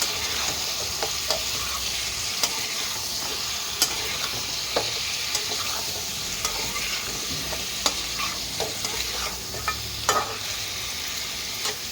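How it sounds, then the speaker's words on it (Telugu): Chicken biryani mixture is stirred in a pan over high flame after salt is added, with continuous sizzling and frying under repeated scraping strokes of a spoon, close and steady, with no talking. "సాల్ట్ వేసుకొని బాగా కలుపుకోవాలన్నమాట."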